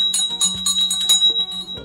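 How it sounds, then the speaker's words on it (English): A bright notification bell chime rings out clearly, a short ringing tone with a few repeated metallic strikes and sustained overtones, loud and close with no voices. "hit the notification bell right over here"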